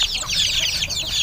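Chickens cluck in quick, overlapping bursts, with one sick bird among a flock suffering from a snoring, rattling respiratory illness; the calls are close and fairly loud and no one speaks over them.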